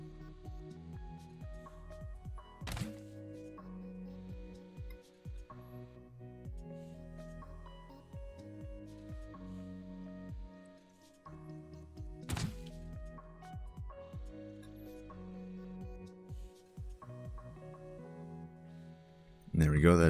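A tank autoloader in Scrap Mechanic cycles with repeated mechanical clunks and thunks, with two sharp loud knocks standing out among softer rhythmic knocking over a low hum, while someone talks throughout.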